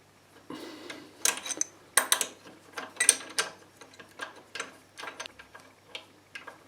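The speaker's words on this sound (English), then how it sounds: "you just need to tighten it using an adjustable spanner" Adjustable spanner tightening the nut on a leaking main water stopcock, producing irregular metallic clicks, taps and scrapes in short bursts, close and fairly quiet.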